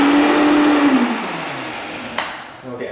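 Blender quickly whirring almond milk with lemon juice, a loud high motor whine that slows and winds down, followed by a short clatter.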